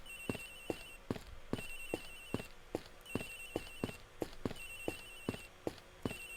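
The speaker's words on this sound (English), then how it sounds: "Agent Hicks's phone. It's ringing from somewhere, sir." A telephone ringing in the Ace Attorney Investigations game, steady repeated double rings with a bright electronic bell tone, fairly quiet and alone.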